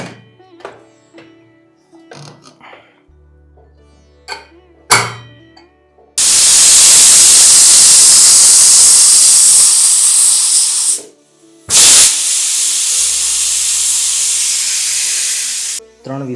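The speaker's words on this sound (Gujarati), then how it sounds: "ત્રણ વિસલ વગાડી છે અને હવે રેસ્ટ આપીએ છીએ." A pressure cooker on a gas stove, cooking a brinjal and potato curry, lets out long loud blasts of steam hissing, one lasting about five seconds, then a second after a brief gap, preceded by quieter kitchen clatter.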